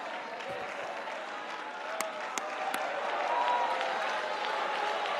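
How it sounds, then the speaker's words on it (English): Audience applause during a sermon by a pastor, steady dense clapping that holds throughout and swells slightly toward the end, with a few sharper claps standing out. "I'm tagging this clap, this applause, this appreciation"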